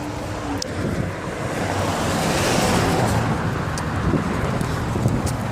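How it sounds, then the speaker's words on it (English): Passing street traffic as a car turns, a steady broad roar of tyres and engines with wind rumbling over the microphone, continuous and fairly loud throughout. "That car's turning left."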